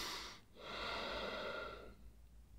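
One slow, conscious breath, a soft airy inhale followed by a longer exhale, close and quiet.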